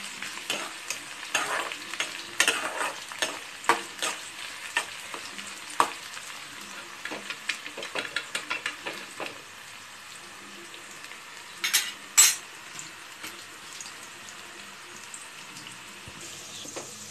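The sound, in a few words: onions sautéing and being stirred in pan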